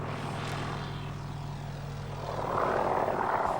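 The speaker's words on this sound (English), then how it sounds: "something we don't often see at an air show is a helicopter taxiing. This is the Sikorsky S-55, flown by Brent Emeny of Helicopter Services" Ex-US Navy Sikorsky S-55 helicopter taxiing at the Warbirds Over Wanaka air show in New Zealand, a steady close engine drone with rotor thrum that swells louder toward the end.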